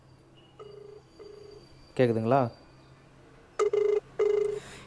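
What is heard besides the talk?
incoming call ringing on Samsung Galaxy Watch 4 Classic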